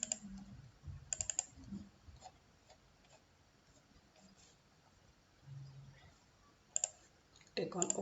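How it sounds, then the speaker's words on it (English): A computer mouse clicks while a user works in ArcGIS software: scattered, faint, close clicks come singly and in quick pairs over a quiet, low background. "Click on OK button"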